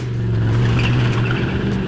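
Ford Mustang race car lapping the Barcelona circuit, its engine a loud, steady, close roar with a strong low drone held throughout, no talk.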